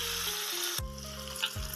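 Tempering (phodni) sizzles steadily in hot oil for cucumber koshimbir, a close, continuous crackling hiss broken by a couple of low thumps, with no voices.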